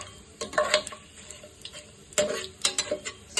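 Fennel seeds, black pepper and shahi jeera frying in a pan for chicken biryani, a crackling sizzle with sharp bursts of stirring and scraping in short clusters.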